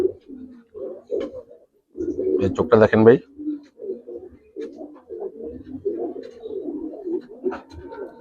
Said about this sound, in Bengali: পাট্টা কবুতর ভাই